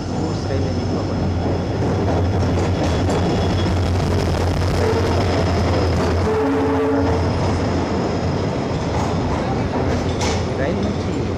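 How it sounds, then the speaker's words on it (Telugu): A loaded goods train rumbles through a railway station in a continuous loud roar with steady rolling noise and a faint tonal whine, heavy and close throughout. "గూడ్స్ రైలు నింపబడి"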